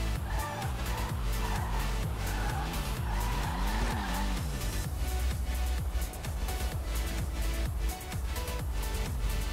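A video game car engine revs and its tyres skid and squeal repeatedly while driving, a continuous loud mix of rising and falling engine tones and scraping screeches with no talk.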